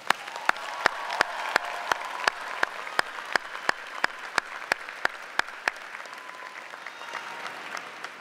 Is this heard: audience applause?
yes